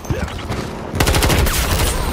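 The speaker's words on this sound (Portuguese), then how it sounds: "O cara atirou no container, velho." Battlefield 2042 rifle fire striking a metal shipping container, with a quieter stretch giving way to a loud, rapid string of shots and clanging impacts that carry on to the end.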